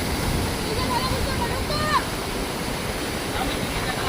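Sea waves wash steadily onto the shore at Kala Patthar beach in Havelock, a broad continuous roar of surf heard close, with a faint bird call in the background and no break in the rush.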